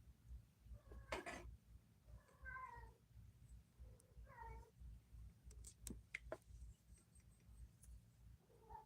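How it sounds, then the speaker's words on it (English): A cat meows several times with short, separate calls spread across the stretch, fairly faint against a low background hum, with a few sharp clicks and knocks between the calls. "Cat!"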